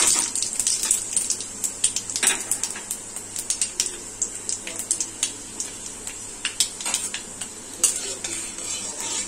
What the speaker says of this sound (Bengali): এবার আমি তেলে পাঁচ ফোড়ন দিয়ে দিচ্ছি,